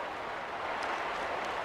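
A rugby league crowd at a Raiders versus Broncos match cheers and claps at kick-off, a steady, fairly faint wash of distant noise with no clear peaks.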